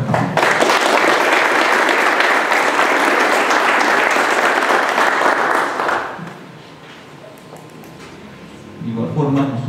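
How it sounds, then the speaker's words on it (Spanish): A hall audience at a public security committee installation breaks into loud sustained applause that fades out after about six seconds, then voices and a little noise resume. "Démosle un caluroso aplauso."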